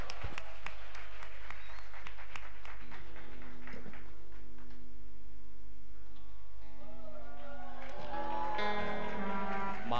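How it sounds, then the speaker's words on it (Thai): Audience at an anniversary show in Bangkok clapping for a seniors' dance performance, a steady patter of many hands through the whole stretch, with music and tones rising toward the end. "ขอเสียงปรบมือให้การแสดงจากกลุ"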